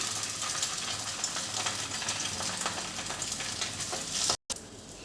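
Egg-dipped bread slices fry in a pan with a steady, dense sizzle that crackles throughout, cutting out briefly near the end before resuming.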